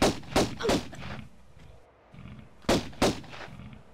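Gunfire in the video game Tomb Raider: Unfinished Business, a quick cluster of three or four sharp shots, a quieter lull, then two more cracks, moderately loud with no talk over them.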